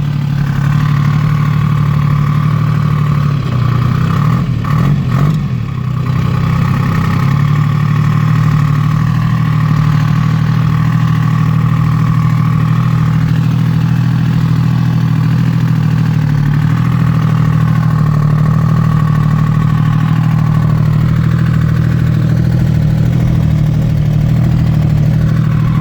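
A two-stroke diesel Toyota engine pulls uphill in 2-wheel drive, a steady, loud, low drone that holds one labouring pitch throughout, with a brief rough patch early on.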